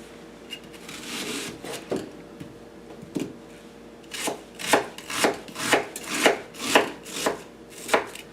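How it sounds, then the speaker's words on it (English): Knife roughly chopping vegetables on a board for beef stew: a few scattered cuts at first, then a quicker regular run of crisp thuds, close and fairly loud with no voices. "Just going to roughly chop them."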